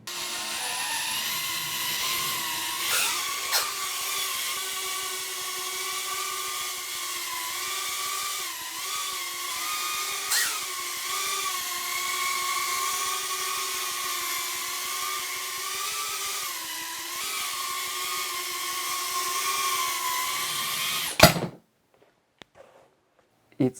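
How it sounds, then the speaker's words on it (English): Small homemade drone flying indoors in a room: steady high-pitched propeller whine for about twenty seconds, wavering as it maneuvers, with a few knocks and bumps, then cutting off abruptly to near silence. "So now that the drone flies, I will test it here in my room because it's raining outside."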